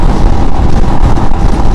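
A 2022 Royal Enfield Himalayan motorcycle cruising at 100 km/h just under 5,000 RPM, a loud, steady roar of engine drone and rushing wind at the rider's position, with no talk.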